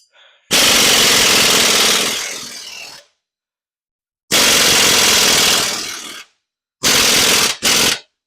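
An impact wrench rattles loudly in three bursts while spinning off a nut during an axle swap, two long runs followed by a short double hit, with silence between them.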